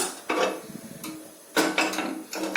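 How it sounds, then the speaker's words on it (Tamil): A metal kuzhi paniyaram pan is set down on a stove with a few close, sharp clanks and scrapes, coming in two or three separate bursts. "இப்ப ஸ்டவ் ஆன் பண்ணி நம்ம குழிப்பணியார பாத்திரம் வச்சிடலாம்"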